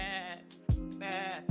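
A goat bleat sound effect, two loud wavering bleats in quick succession, each cut off by a sharp thump, close and clear with no talk.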